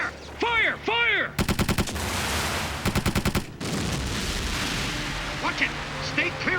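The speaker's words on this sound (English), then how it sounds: "Open fire! Fire! Fire!" Loud rapid gunfire bursts out in an anime movie sea battle, with a ship under attack, as repeated volleys crackle over a roaring battle din and shouted voices.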